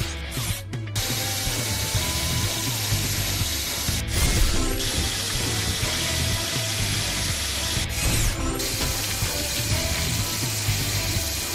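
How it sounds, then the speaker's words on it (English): Mechanical whirring and ratcheting of a drill in a PAW Patrol video game, loud and continuous with short clicking breaks, no talk. "Move this to place the drill."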